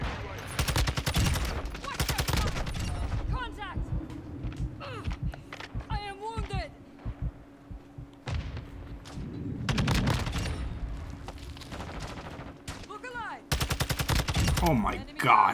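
Modern Warfare 2 gunfire in an online match. Rapid automatic bursts and single shots come in several loud clusters with short gaps between them. Game sound effects and faint voice-like calls fill the pauses.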